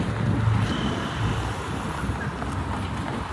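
Steady warm wind blowing across the microphone at Ajman Beach, UAE, a constant low rumble with a faint wash of surf behind it, no voices.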